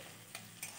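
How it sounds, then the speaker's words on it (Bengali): Ground spices with sugar sizzle in hot oil in a pan as a steady, quiet hiss, with two brief scraping strokes of a stirring spoon. "আর চিনি দিয়ে ভালো করে আবার মশলাটা কষে নিলাম।"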